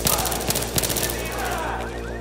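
Close, loud automatic gunfire crackles through a cooperative Battlefield 3 mission, with dense bursts of rapid shots that gradually thin out over a steady battle backdrop.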